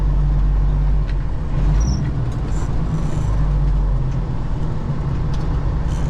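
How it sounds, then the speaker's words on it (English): A truck pulls in at a grain elevator on a wet day, a loud steady low rumble of engine and tires close by, continuous without talk. "there's a truck coming in"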